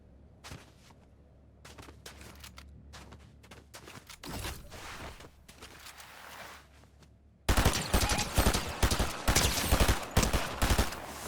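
Gunfire in the video game Fortnite: scattered single shots at first, then a loud, rapid automatic burst of sustained fire near the end, with no talking.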